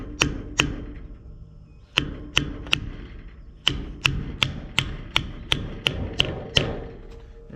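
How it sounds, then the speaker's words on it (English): A seal installer being hammered onto the axle hub of a homemade car hauler trailer, giving sharp metallic taps in small groups separated by brief pauses, each ringing briefly, close and loud. "I use the seal installer for this."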